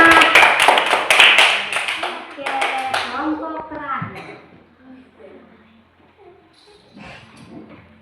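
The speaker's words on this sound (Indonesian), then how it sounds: "Tepuk tangan untuk kelompok 2" A short burst of clapping from a group fades out after a few seconds, followed by quieter talking voices.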